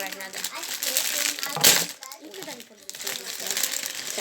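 A plastic bag of Lego pieces is crinkled and torn open up close, with bursts of rustling and a sharp rip while a child and another person talk over it.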